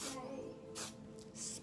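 Several short hissing spray bursts from a can of Sebastian Shaper hairspray, close up, over a faint steady musical background.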